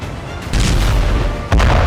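Explosions and artillery blasts from attacks on Ukraine in wartime footage: two heavy booms, the second sharper, each a sudden broad burst with rumbling tail, loud and fairly close, no voices.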